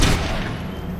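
Gunfire from characters shooting a cop in the video game Satellite Reign, a loud dense burst of booming shots and thuds in quick succession, close and filling the whole moment.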